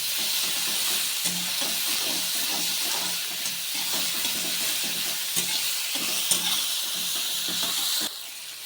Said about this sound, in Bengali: এইবার আমি পেঁয়াজ কুচিটা দেবো, টমেটো কুচিটা দেবো, দিয়ে হালকা করে